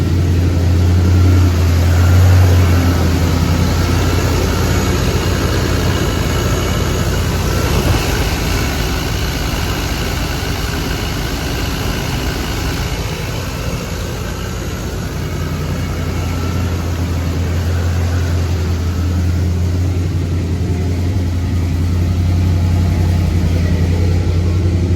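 A 1983 GMC K2500 barn-find truck engine idles steadily throughout, a continuous low rumble with a strong low hum, close and loud, with no voices over it.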